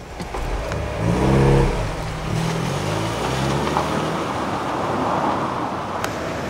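A Mazda MX-5 sports car's engine revs up and rises in pitch, then settles into a steady drone as the car drives past with road noise, loud and close.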